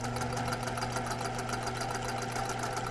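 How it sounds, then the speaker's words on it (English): A sewing machine runs steadily through a very small stitch, a loud close whirring drone with fast even needle chatter throughout, alone without voices. "I'm just doing a very small stitch and running off."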